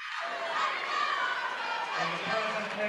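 A crowd at a 1989 state championship wrestling match roars and cheers, a dense, sustained wash of voices with shouts rising from the mass, fairly distant and continuous throughout.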